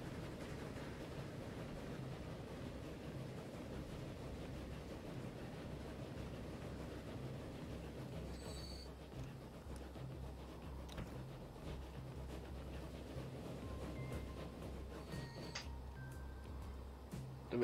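Train running in the Transport Fever 2 railway game, a faint, steady low rumble rolling on continuously with a few soft tonal blips near the end and no talk.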